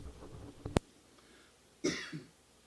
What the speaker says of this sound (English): They can still hear you coughing.